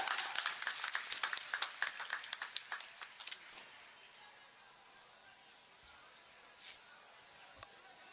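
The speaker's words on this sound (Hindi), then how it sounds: "जोरदार तालियों से स्वागत करें माननीय मुख्यमंत्री जी का।" Audience applause welcoming the Chief Minister at a public event in a stadium: a burst of scattered, fairly close clapping that thins out after a few seconds, leaving quiet room noise with a couple of faint knocks.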